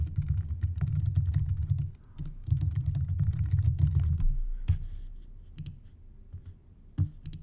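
Steady bursts of typing on a computer keyboard while searching for an image online, a dense run of close clicking key strokes that pauses briefly, resumes, then thins to a few scattered taps near the end.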